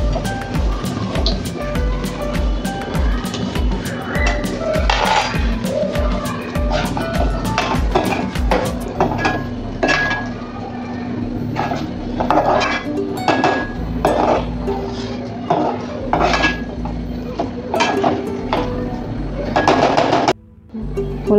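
Veg Manchurian being stirred into gravy in a pan gives off repeated clinks and scrapes of a spoon on metal over a steady bubbling sizzle, continuous and fairly loud.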